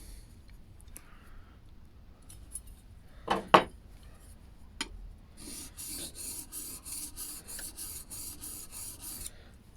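Steel blade of a No. 6 hand plane rubbed back and forth on a DMT 250mm DuoSharp diamond whetstone, a close, rhythmic rasping of about a dozen even strokes after a few scattered clicks and scrapes.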